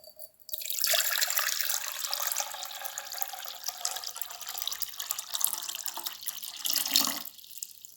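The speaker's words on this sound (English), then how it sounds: "So I'm going to pour my water into my bowl." Water poured from a container into a bowl, a steady broadband splashing stream lasting several seconds, close and fairly loud, ending with a brief trickle.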